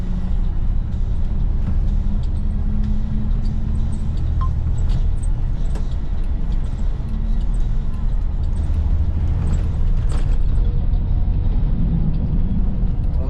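From on board, a bus engine rumbles loudly and continuously on a drive toward the mountains, pulling steadily with heavy low drone and road noise, with faint voices talking over it.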